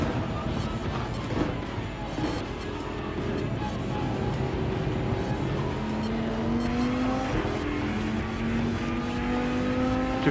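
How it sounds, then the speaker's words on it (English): Group 4 Viper race car engine in the Gran Turismo 7 game at Deep Forest Raceway, droning and shifting pitch through gear changes, with other cars around and someone talking over it. "I'm racing today with the grade 4, I mean the group 4 Viper"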